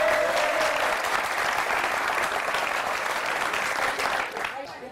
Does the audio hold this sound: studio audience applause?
yes